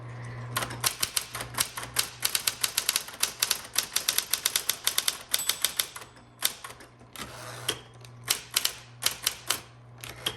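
Keys clack rapidly on a 1960s Smith Corona Electra 110 electric typewriter, close-up bursts of strikes over a constant motor hum, with brief pauses between runs of typing.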